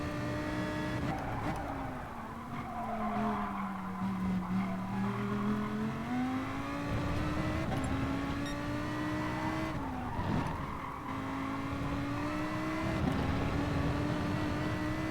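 A Lamborghini race car in the GT Sport video game roars through a race, its engine revving and shifting pitch while the tires squeal and skid in long stretches, loud and continuous with no speech.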